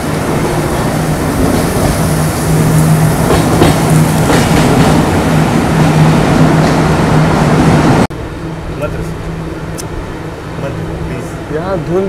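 Train rolling on the line out of Kalyan toward Manmad, heard from inside a Vistadome coach: a steady, loud rumble with a low hum throughout, quieter and thinner after a sudden drop partway through, with faint talk in the background.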